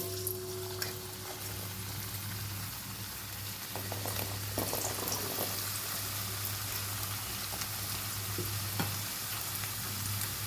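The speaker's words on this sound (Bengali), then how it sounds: "প্রথমে আমি আলুগুলো ভেজে নেব" Potatoes fry in hot mustard oil in a kadai, a constant close sizzle and bubbling hiss with occasional light stirring clicks and small pops.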